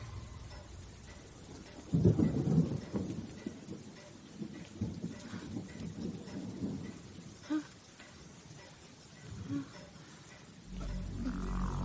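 Deep thunder rumbles roll through a steady wash of heavy rain during a dramatic film scene, with a loud burst early on and further low rumbles later.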